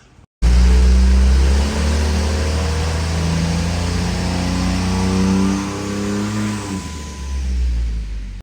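A turbocharged truck engine with a large, tight torque converter revs loudly nearby, one long sustained pull with rising tone as the turbo spools, then easing off and climbing again near the end.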